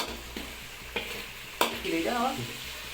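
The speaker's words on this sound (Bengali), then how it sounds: "এভাবে হালকা জল দিয়ে ফুটিয়ে নিতে হবে মশলাটাকে" Spice paste simmering in a pan with a splash of water for a chicken curry gives a low, steady sizzle, with a few sharp spoon taps against the pan and a brief louder scrape near the middle.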